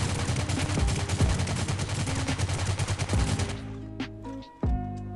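A sustained AK rifle spray in the mobile shooter Rules of Survival: a loud, rapid stream of gunshots for about three and a half seconds, then a few isolated shots and clicks, with no voices.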